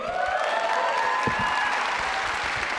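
A live audience claps in a steady wash of applause that lasts the whole short stretch, with faint whistle-like tones above it.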